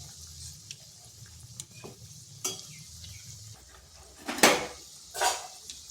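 Langcha sweets made from softened puffed rice sizzle steadily in hot oil, with a few sharp utensil clinks and scrapes as the pieces are turned over, loudest near the end.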